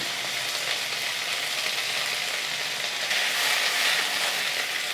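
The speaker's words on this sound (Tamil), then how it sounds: "மல்லித்தழையும் புதினாவையும் நல்லா நம்ம வதக்கி விட்டுக்கலாம்." Mint and coriander leaves sautéing with garlic and ginger for a chutney give a steady, close frying sizzle that holds evenly throughout, swelling a little toward the end, with no talking.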